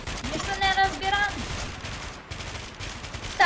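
Gunfire in the shooter WARMODE, a scattered burst of shots mixed with game effects and ringing tones, fairly busy and mid-loud, with a louder hit at the very end.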